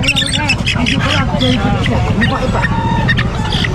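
Chickens squawk and cluck at a crowded outdoor pet market in Bocaue, loud and close, mixed with continuous chatter from people talking nearby.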